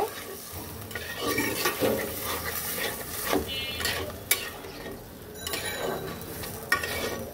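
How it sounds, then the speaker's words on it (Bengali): Fish curry masala with tomato and eggplant is stirred in a pan after a splash of water, giving a steady sizzle with scraping, clinks and a couple of sharper knocks against the cookware. "এইবার মিক্সড করে দেব।"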